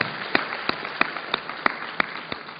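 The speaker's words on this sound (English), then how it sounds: "we should give them a big clap" Sparse, slow clapping at an academic conference, a handful of distinct claps spaced fairly evenly over a quieter background, sounding thin and somewhat distant.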